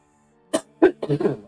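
Three quick coughs close by, a single sharp one followed by a short rough double cough, with no talking.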